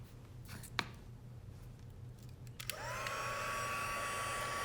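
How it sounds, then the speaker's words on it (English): A heat gun melts embossing powder on a handmade card. Quiet background rustle and a few small taps come first, then the heat gun switches on with a rising whine and settles into a steady, close hum. "when you heat it with the heat gun, it will melt the powder and it will become shiny"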